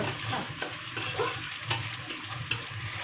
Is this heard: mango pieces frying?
yes